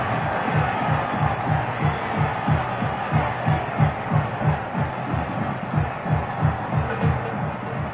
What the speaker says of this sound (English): Doesn't that crowd roar?